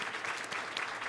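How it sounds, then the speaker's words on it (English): Brief burst of audience applause for conference presenters at a Pecha Kucha session, a dense steady patter of clapping with no voices over it. "Can we give them maybe another round of applause for starting us off?"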